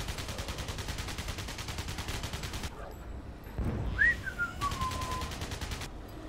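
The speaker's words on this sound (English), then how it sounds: "I threw a frag grenade by accident." Rapid bursts of automatic gunfire crackle in the sci-fi shooter game Alien Breed Impact, pausing for a dull frag grenade blast and a rising whistle before the firing resumes.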